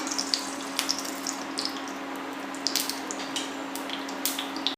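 Steady crackling sizzle of mustard seeds frying in hot oil, with scattered sharp pops over a constant hiss, close and fairly quiet, no voices.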